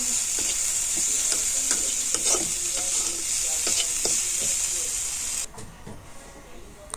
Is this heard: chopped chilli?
yes